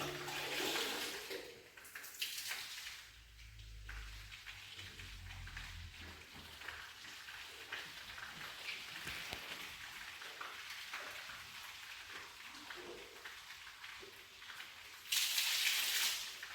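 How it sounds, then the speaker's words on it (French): Water rinsing a car body after a sponge shampoo during a ceramic coating treatment: steady splashing and pouring, moderately close and alone, with a brighter, louder spray burst near the end. "Je rince avec de l'eau."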